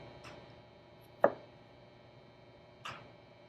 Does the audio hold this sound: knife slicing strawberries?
yes